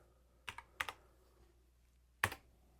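A few quiet computer keyboard key presses while a value is entered in CAD software: a quick pair of clicks, another pair, then a pause and a final press, crisp and close in a silent room.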